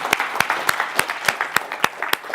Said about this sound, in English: big round of applause for the panel